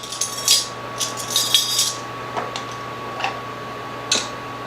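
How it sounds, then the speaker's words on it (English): Spoon stirring a thickening macaroni and cheese sauce in a pot: irregular light scraping and clinking against the metal, close, with a steady hum underneath. "I'm just going to stir it till it's thickened"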